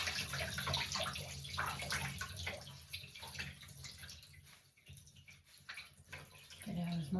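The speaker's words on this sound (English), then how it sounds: "I'm going to squeeze out my shirt here" Soapy water wrung by hand from a shirt being washed to lift a pumpkin stain, with steady close splashing and dripping that swells and eases over several seconds.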